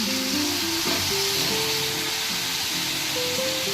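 Chicken with masala paste fries in a pan for a coconut chicken curry, giving a steady, loud sizzle that holds without a break, while a faint tonal hum drifts underneath.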